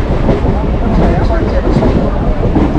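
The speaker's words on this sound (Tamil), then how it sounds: "கிண்டி ரயில்வே ஸ்டேஷன்லேருந்து ட்ரெயின் கிளம்பிருக்கு" A train pulls out of Guindy railway station, a steady loud rumble of wheels and carriage noise heard from on board, with a low continuous roar throughout.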